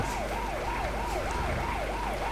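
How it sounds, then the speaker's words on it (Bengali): A police car siren in a truck-driving video game, a wailing siren rising and falling in a steady regular cycle over a low engine rumble, fairly faint. "পিছনে পুলিশের গাড়ি লাগছে আমাদের অসুবিধা নেই"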